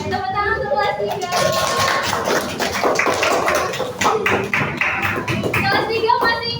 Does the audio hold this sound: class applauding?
yes